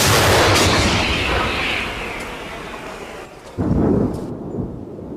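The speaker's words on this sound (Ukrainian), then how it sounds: "Армата! Постріл!" An artillery gun fires at the front, a heavy booming blast that rolls and rumbles as it decays, followed by a second sharp report a few seconds later.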